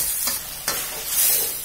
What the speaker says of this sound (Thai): ผัดจนรู้สึกว่าตัวผักของเรานิ่มให้เราใส่ซอสมะเขือเทศค่ะ แล้วเราก็จะเคี่ยวต่อไปนะคะ